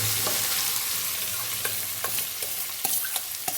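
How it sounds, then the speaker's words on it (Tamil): Onions fry with mustard seeds in a pan for potato masala, a continuous close sizzle broken by several clicking stirs and scrapes of a spoon, with no voices. "வெங்காயம் வந்து நல்லா பொன்னரமாக கொஞ்சம் ரொம்ப கருகிடாமல் லைட்டாக ப்ரௌன் கலர் வர்றப்ப"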